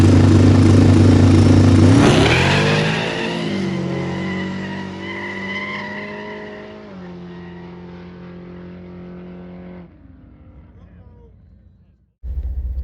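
A twin-turbo Mustang drag car launches on a no-prep track, its engine roaring and tires squealing at the hit, then the sound fades as the car pulls away down the strip, before a brief clatter near the end.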